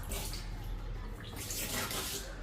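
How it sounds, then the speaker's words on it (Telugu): Floor cleaner poured into a container of water, a soft continuous splashing and swishing of liquid up close, with a faint low hum underneath. "ఫ్లోర్ క్లీనర్ వేస్తున్నాను ఈ వాటర్లో."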